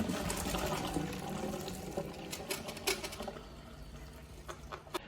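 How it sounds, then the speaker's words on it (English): Freshly cooked pasta drained into a colander: continuous splashing and gushing water, loud at first and then thinning into scattered drips and trickles. "we're gonna drain our freshly cooked pasta."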